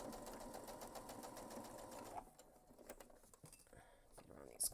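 A domestic sewing machine stitches a curved foam backpack panel with a steady, quiet whir for about two seconds, then stops, leaving soft handling rustles and faint taps.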